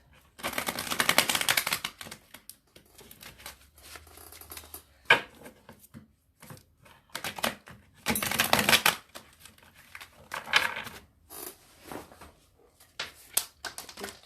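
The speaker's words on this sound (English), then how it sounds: "Shuffle it again." A tarot card deck shuffled by hand in several crisp, riffling bursts separated by quiet pauses, close and fairly loud.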